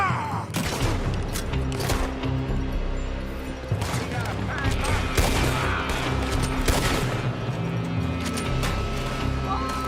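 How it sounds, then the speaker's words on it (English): A Red Dead Redemption 2 shootout: loud, dense gunfire volleys crack repeatedly for about ten seconds, with shots fired from a building, and voices briefly mixed in. "They're shooting from that building."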